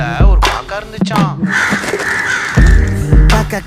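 Harsh crow caws ring out in short, loud bursts amid music and singing in a Tamil children's song.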